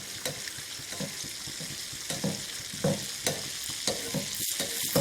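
Karupatti paniyaram, palm-jaggery dumplings, fry in a pan while hot oil is repeatedly spooned over them, giving a continuous soft sizzle with regular light scraping and splashing strokes.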